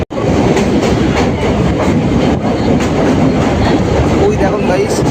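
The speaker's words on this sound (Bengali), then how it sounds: "ফাইনালি ট্রেন কিন্তু অলরেডি ছেড়ে দিয়েছে" A train rolling near Dakshineswar station, a steady loud rumble with clickety-clack of wheels on rails running continuously up close.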